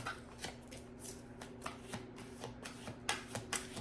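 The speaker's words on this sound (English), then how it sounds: "As you see, I'm shuffling the heck out of this." A deck of Archangel oracle cards is shuffled vigorously by hand, giving quiet, close, repeated riffling and tapping bursts in an irregular rhythm.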